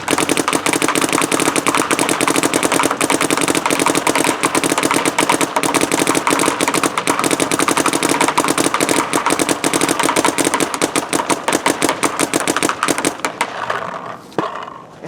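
An Etha 2 paintball gun fed by a Pal loader fires in a rapid, sustained stream of cracking shots for about thirteen seconds before stopping, loud and close.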